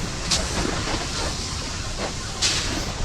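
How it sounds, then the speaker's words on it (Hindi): A train in the video game Poppy Playtime Chapter 2 starts to move, producing a steady rumbling hiss with a few sharp metallic clanks and bursts of steam-like noise. "तो दोस्तों हमारी ट्रेन चलने लगी है।"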